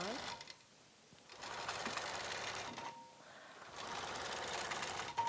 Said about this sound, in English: then pull it up here like this and come over, and we'll stitch this one on